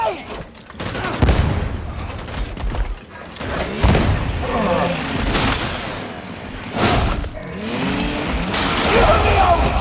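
Grenade blasts and heavy gunfire in the grim sci-fi shooter Warhammer 40k: Darktide, with loud booming explosions and rattling shots crowding a continuous, chaotic combat din.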